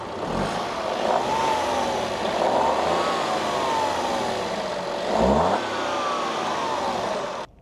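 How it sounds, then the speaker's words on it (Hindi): A 2024 Suzuki Swift's three-cylinder engine revs up and down several times, rising and falling in pitch, close by with a steady mechanical drone. "और अब हम एक्सीलेट भी करेंगे, फिर देखना है कि कैसी आवाज़ कर रहा है।"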